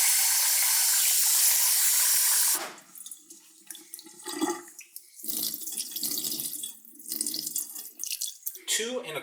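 A kitchen tap runs water into a measuring cup for cooking rice, a loud, steady rushing stream for a couple of seconds that then cuts off, followed by quieter kitchen clatter and handling sounds.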